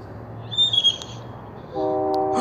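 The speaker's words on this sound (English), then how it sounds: "Oh, it's a train." A passing train sounds its horn, a sustained harmonic blast coming in loud and close near the end after a fainter high tone and a low rolling rumble.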